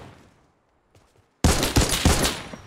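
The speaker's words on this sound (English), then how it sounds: "I got the new gun. I'm gonna shoot it." Rapid, loud bursts of infantry rifle fire from a rare new gun in a shooter video game, starting abruptly after a near-silent pause and continuing as a dense barrage of sharp, repeated shots with no talking.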